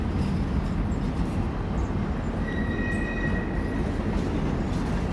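Florida East Coast engine 507, a freight locomotive, moving rock train cars during switching; a steady, loud rumble of rolling rail cars with faint wheel squeals, continuous throughout.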